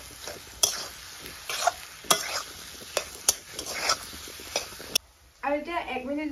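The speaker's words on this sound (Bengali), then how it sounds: "এতিয়া গোটেইখিনি দি মেলি আকৌ এবাৰ ভাজিছোঁ" Chicken pieces coated in garam masala sizzle in a pan with repeated scraping, clattering stirs. The frying drops out briefly near the end while a voice speaks.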